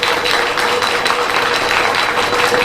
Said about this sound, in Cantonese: 俾啲掌聲俾理事會添，好唔好啊？